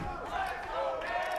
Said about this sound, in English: The crowd getting fired up.